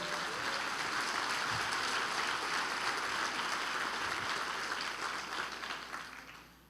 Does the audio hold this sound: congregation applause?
yes